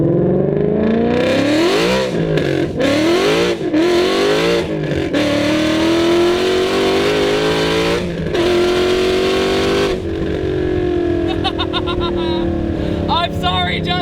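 A supercharged 800-horsepower Mustang GT revs hard and accelerates through several gear changes, with a loud, raspy, rising engine roar, brief dips between shifts and a steady high-rpm drone close by.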